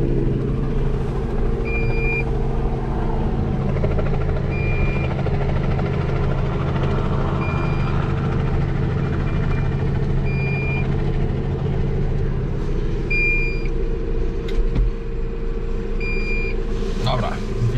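Ride aboard a small farm tractor at the Bednary 2021 agricultural show, a steady loud engine drone with low harmonic hum throughout, thin beeps sounding intermittently, and people talking over it.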